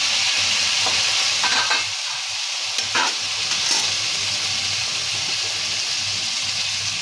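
Chili and spices frying in a pan while being stirred, a steady close sizzle with occasional scraping stir strokes, no voices.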